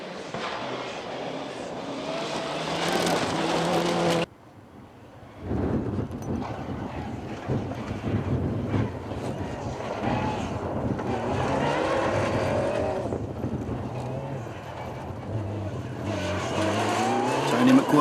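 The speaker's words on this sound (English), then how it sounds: "The 8 car, that's Tony McWhirter in his Evo 9, putting up some decent times" A Mitsubishi Evo 9 rally car on a rally stage, its engine roaring loud and close with revving and gear changes, briefly cut off, then continuing through the clip and rising again at the end.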